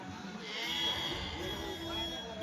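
Rams bleat at a weekly sheep and goat market in Kadiri, a close, drawn-out bleat over busy crowd noise, with people talking nearby.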